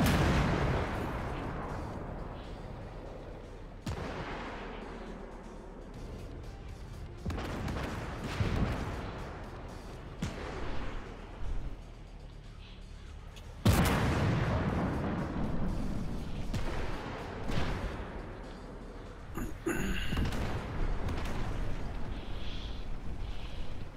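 Video game warfare: heavy artillery booms and gunfire crack every few seconds, each blast followed by a long rumbling decay, with scattered distant shots in between and no talking.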